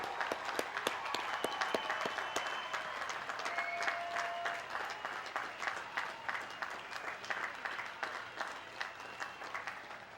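Sustained applause from a graduation commencement audience rising for the class of 2011 at a college of environmental design ceremony, steady dense clapping throughout that thins slightly toward the end.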